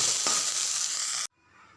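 Okra frying with turmeric and other spices in a pan, a steady bright sizzle close up with a light clink, then cut off abruptly as a lid goes on, leaving a faint muffled hiss.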